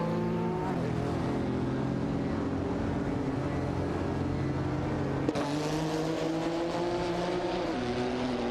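Race car engines of a Lamborghini Diavolo GTR and a McLaren F1 LM in a racing video game, a continuous high droning whine that shifts pitch through gear changes, with one sharp click partway through.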